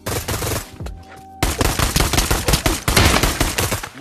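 Rapid automatic gunfire in the Pavlov VR roleplay shooter, a loud burst, a brief pause, then a longer sustained stream of shots with clattering impacts.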